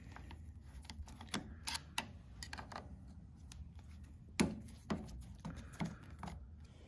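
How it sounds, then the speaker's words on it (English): Small metal clicks and ticks from screws being loosened on a sewing machine's presser bar linkage, scattered irregularly with a few sharper taps, close and fairly quiet. "So I'm going to loosen both of those screws to show you how I adjust it."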